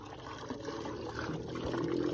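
Water trickles and pours steadily for a couple of seconds, a soft, continuous splashing at moderate distance amid a faint outdoor hum in hot weather.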